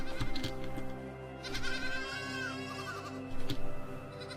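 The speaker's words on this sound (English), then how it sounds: "Oh my god, there's sheep." Sheep bleating in the video game AER: Memories of Old, several wavering calls over a steady droning game soundtrack, with louder bleats near the start and end.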